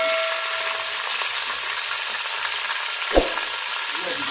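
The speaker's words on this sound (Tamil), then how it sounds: "நமக்கு வந்து பிரியாணியில் தெரிஞ்ச ஒரே வேலை இந்த மாதிரி கிண்டுறது கலக்கிறது" Country chicken biryani with mint is stirred in a pot over the flame, a soft continuous sizzle with a single sharp scrape or knock of the spoon against the pot near the end.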